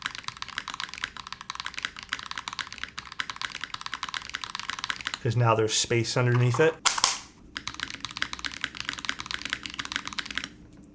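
Rapid clacking keystrokes on a modded Razer keyboard with its feet raised, a steady close run of typing that pauses briefly while someone speaks, then resumes.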